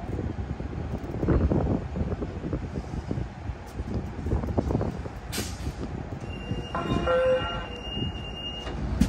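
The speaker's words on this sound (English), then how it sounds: "Capital Corridor Train 534 is now departing Richmond Station on track number 1." Amtrak Capital Corridor train 534 pulls out of Richmond station, rumbling with clattering wheels and rolling stock noise nearby, followed by hissing air brakes and a brief high squeal near the end.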